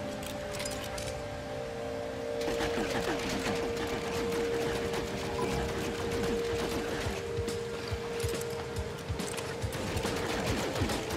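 Rapid bursts of energy-weapon fire from the Bolt Caster gun in No Man's Sky on PS4, a dense stuttering rattle running steadily through most of the stretch over constant game ambience.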